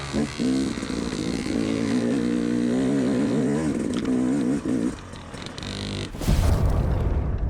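A two-stroke dirt bike, a Yamaha YZ250X or KTM TPI, revs hard nearby with a rising and falling buzzing drone as it works through the clutch and gears, then ends in a brief rush of wind noise.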